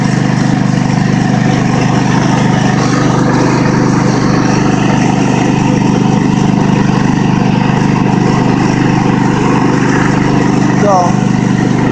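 A Craftsman ProSeries garden tractor engine runs below its high throttle setting, giving a steady, even drone that never changes through the whole stretch, with a voice faintly present over it.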